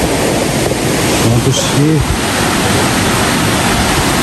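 Burude waterfall in Uttara Kannada, Karnataka, produces a loud, constant roar of rushing water that fills everything, while someone speaks briefly over it.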